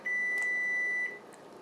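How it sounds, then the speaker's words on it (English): A kitchen timer sounds a single steady electronic beep, loud and close, lasting about a second before fading into quiet room tone. "Oh, that's my timer."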